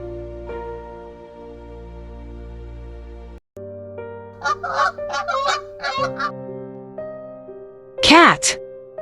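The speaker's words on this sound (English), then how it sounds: "Goose." A goose lets out a run of loud honks, then one more sharp honk near the end, all over light background music.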